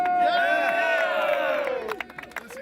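Dodge Viper Cup fans at Miller Motorsports Park cheering a race win, a loud burst of crowd shouting and whooping that fades after about two seconds into scattered claps and calls.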